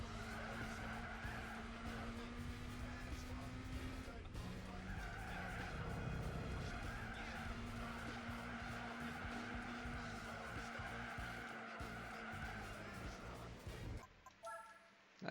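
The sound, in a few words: Volkswagen Golf driving and braking in video game Gran Turismo 4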